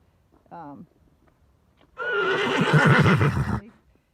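A horse whinnies loudly and close by in the rain, a long shaky neigh lasting over a second, after a brief short call.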